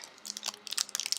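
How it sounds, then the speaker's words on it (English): Crinkly candy bar wrapper being torn open, a rapid series of close, sharp plastic crackles and rustles of moderate loudness. "I'm gonna open this candy bar."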